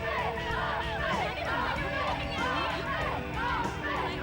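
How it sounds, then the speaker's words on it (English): A crowd cheering and chattering at a signing event in GTA Vice City, a steady babble of many voices with scattered shouts, with a clear voice talking over it. "here is the signing here. As you can hear from the cheering."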